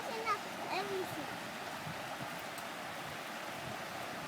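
Flash floodwater in the Las Vegas area rushes steadily and carries wood and debris, a continuous roaring wash heard from nearby, with brief faint voices early on.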